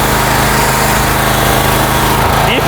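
A 4,000 PSI SB Tools pressure washer runs with a steady, loud engine drone throughout, close by, with no talk over it.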